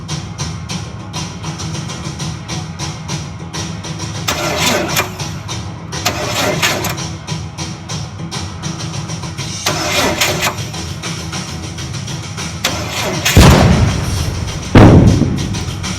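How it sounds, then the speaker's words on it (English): A car engine is cranked over repeatedly with its fuel pump relay pulled, giving several bursts of starter churning spaced a few seconds apart, followed by two sharper loud thumps near the end. "I'm going to turn it over a few times and see if I hear anything."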